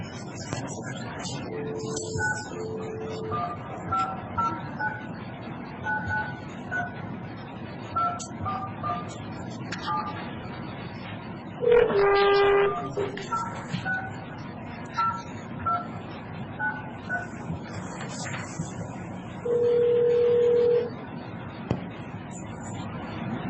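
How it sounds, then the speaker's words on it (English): Telephone dialing tones while calling into a Franklin County, Washington commissioners meeting: a string of short beeps over faint room noise, with two longer, louder tones partway through and near the end. "Oh, heck, we were just trying to call you guys."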